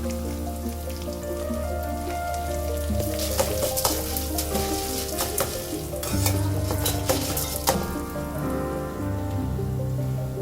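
Dried red chillies and asafoetida frying in oil for a ridge gourd peel chutney, giving a dense, continuous sizzle with bursts of spattering, close and fairly loud over a soft, steady tonal background.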